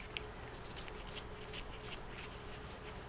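A knife pushes through wood in short scraping cuts while a Santa ornament is carved, several quiet strokes repeating against a steady background hiss.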